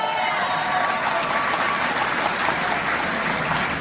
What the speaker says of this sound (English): did you see how the crowd erupted